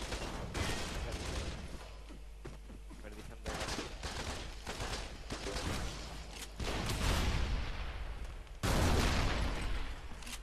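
Rapid gunfire from the robot-shooting video game Shoot Many Robots, dense bursts of automatic shots and booms continuing throughout, with louder volleys near the end.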